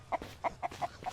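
Chickens clucking in the Mist Survival video game, a series of five short, evenly spaced clucks close by, with no talking over them.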